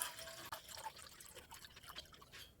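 Water left from washing rice pours from one kitchen vessel into another, a faint, steady trickle with small splashes and drips running throughout.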